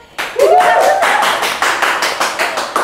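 Audience clapping for two university students arriving at an event, starting after a brief voice and continuing as loud, close rhythmic claps that settle into a steady pulsing beat.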